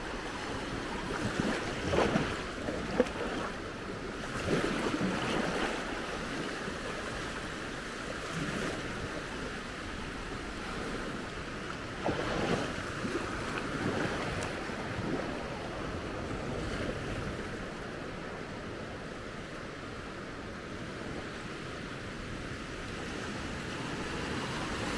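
Gentle, steady wash of calm sea waves at Maspalomas, Gran Canaria, in the morning, with soft swells rising and falling, mixed with light wind noise and no voices.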